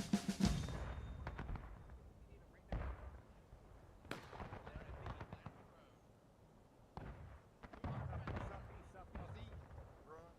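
Cannon artillery fires in the War of Rights video game, Civil War era. Several sharp booming blasts come at irregular intervals, some nearer and some more distant, against a quiet background.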